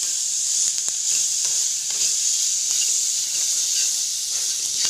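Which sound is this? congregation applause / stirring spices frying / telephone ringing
stirring spices frying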